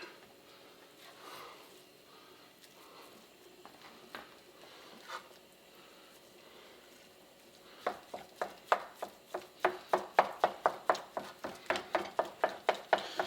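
Ground turkey cooks in a hot pan with a faint sizzle, then a spatula chops and stirs it in a fast run of sharp, regular scraping taps that grow louder toward the end.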